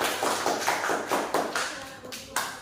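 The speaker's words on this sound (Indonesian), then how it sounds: "Kita berikan aplaus dulu untuk kelompok" A classroom group gives a short burst of applause for a student team, a handful of hands clapping in an uneven rhythm that thins out and fades over a couple of seconds.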